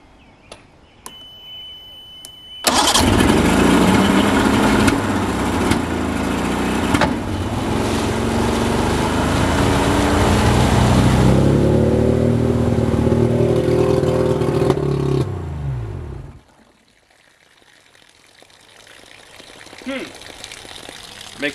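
A restored 1970 Mercury 70 outboard motor on a Skeeter boat cranks and catches abruptly, then runs loud and steady with a throbbing, slightly rising drone for about thirteen seconds before cutting out, leaving near silence.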